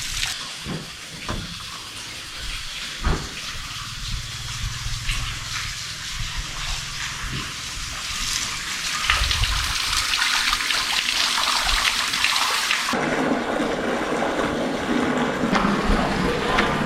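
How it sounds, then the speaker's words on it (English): Air and water rush through an off-grid water supply pipe, a steady broadband hiss and gurgle with a few sharp knocks early on, growing louder and harsher partway through and continuing without speech. "That sound is all the air in the pipe."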